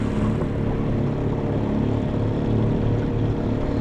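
Small outboard motor on a dinghy runs steadily at close range, a continuous low droning hum with water wash, no talk.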